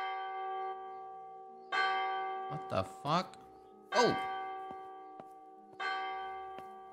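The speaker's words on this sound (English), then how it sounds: "What is that? Bell toll." A church bell tolls in the video game Martha is Dead, with several resonant ringing strikes that decay slowly. A man cries out in surprise between the tolls.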